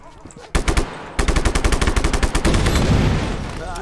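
Rapid bursts of automatic gunfire in the video game Just Cause 3 as a fuel tank is shot and blown up, loud and close, with a sustained rumbling blast swelling at the end.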